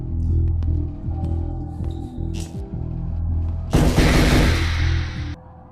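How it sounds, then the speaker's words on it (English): A grenade blast in the VR game Tea For God: one loud, broad burst of noise near the end, lasting over a second, following quieter game sounds and low hum. "Oh, it's a grenade."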